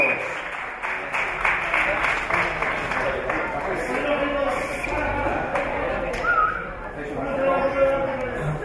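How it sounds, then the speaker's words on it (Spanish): Steady applause from a crowd fills an indoor award ceremony for young motorsport champions in the minimoto category, with voices mixed in throughout. "Un aplauso final para ellos."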